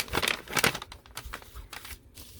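Paper bag packing material being handled and crinkled up close, giving a run of dry rustling crackles in uneven bursts, louder at the start and softer toward the end.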